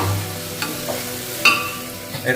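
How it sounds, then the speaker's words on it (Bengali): Ground spices such as coriander powder sizzling and being stirred in a pan with a splash of water, a steady close crackle with a few sharp scrapes of the spoon and no talking. "কষতে কষতে যাতে লেগে না যায় তার জন্য তোমাকে একটু জল পরিমাণ মতো দিতে হবে"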